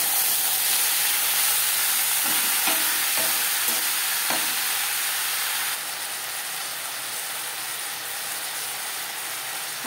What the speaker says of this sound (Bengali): কাঁঠালের দানার সাথে ডাঁটা বেশ ভালো করে মিক্স করে